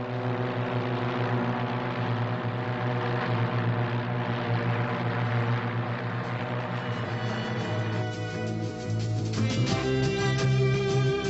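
Propeller aircraft of a top European aerobatic display team fly in close mirror formation at an air show, their engines droning loudly and steadily, the pitch shifting near the end as they pass.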